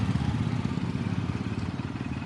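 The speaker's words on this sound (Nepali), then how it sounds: "यस्तो हाई स्पिड आउँछ बाइकहरू" A motorcycle engine on a road in Nepal, a close, steady throbbing putter with a rapid pulsing beat that continues evenly throughout.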